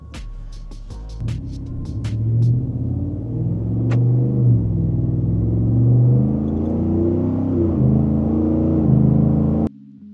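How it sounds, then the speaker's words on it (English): Ford F-150 pickup truck shifting into reverse and drive and moving back and forth, a low engine rumble that rises and falls steadily, near the microphone, starting after a few clicks and ending abruptly. "I'll go into drive and we'll drive forward and then reverse back to the camera"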